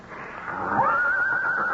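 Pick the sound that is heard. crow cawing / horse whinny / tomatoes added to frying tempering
horse whinny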